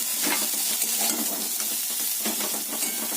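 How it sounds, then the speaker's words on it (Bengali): Crabs and a potato fry in hot oil in a pan, giving a steady, loud, close sizzle with faint crackling and no voices throughout. "কাঁকড়াগুলোকে লাল লাল করে ভেজে নিলাম ভেজে তুলে নিলাম তার সঙ্গে একটা আলুও দিলাম"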